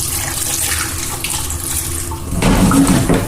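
Tap water runs into a pot of yam for Nigerian yam porridge, a steady splashing stream that grows louder and heavier near the end as the flow increases.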